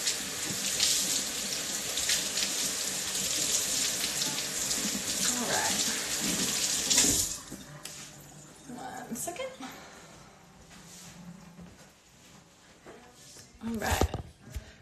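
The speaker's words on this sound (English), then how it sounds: "you're just watching me wash my hands" Hands being washed under a running tap, with a steady hiss of water for about seven seconds before it stops, then quieter handling, a few knocks and a short splash near the end, with a voice talking over it.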